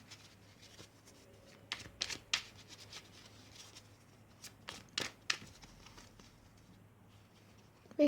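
Tarot cards are shuffled by hand in short, crisp riffling bursts and soft slaps, close and fairly quiet against a faint hum, with no talk.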